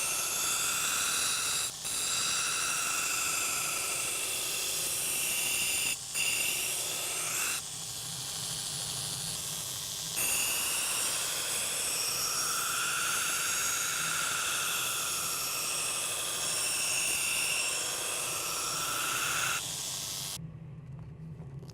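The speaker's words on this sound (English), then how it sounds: "So we'll do the primary grind with 36 grit." Belt grinder doing the primary grind on a hand-forged garden tool with a coarse 36 grit belt, a loud continuous abrasive hiss that runs steadily with brief dips, then cuts off near the end.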